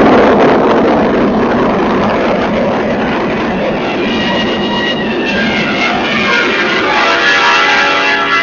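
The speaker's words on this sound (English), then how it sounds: "The launch vehicle is in autonomous flight." An Energija launch vehicle in flight, heard as a loud continuous roaring rumble that is broad and steady throughout, with no voices over it.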